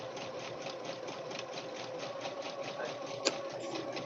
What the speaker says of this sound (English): Is my sewing machine too noisy?